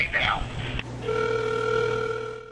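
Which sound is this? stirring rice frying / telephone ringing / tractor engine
telephone ringing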